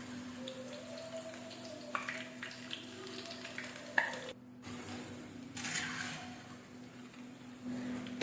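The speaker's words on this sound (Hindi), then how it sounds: "अब इसे अच्छी तरह से हम फ्राई करेंगे।" Besan boondi frying in hot oil, a steady close sizzle with occasional stirring clinks and scrapes of a utensil in the pan, no voices.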